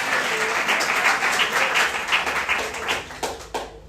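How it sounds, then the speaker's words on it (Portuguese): A church congregation applauds together in a dense burst of clapping that thins out and fades into scattered claps toward the end. "Dê uma salva de palmas ao Senhor."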